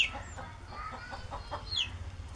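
Backyard chickens and chicks cluck and peep faintly in short, scattered calls against low background noise.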